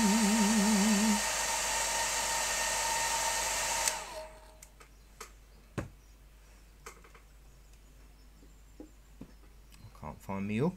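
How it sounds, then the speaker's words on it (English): A hair dryer blows steadily and loudly for about four seconds over watercolour paint, then cuts off, leaving quiet clicks and small handling noises. "if I blast this with a hairdryer"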